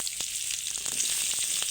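Chopped onion frying in oil tempered with cumin and panch phoron, a bright, dense, continuous hissing sizzle close by, broken by faint stirring taps, with no talking.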